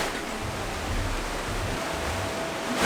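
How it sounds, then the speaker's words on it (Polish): A mountain river in Sapadere canyon flows as a steady, broad rush of water that holds evenly throughout, with no voices over it. "Tu jest górska rzeka."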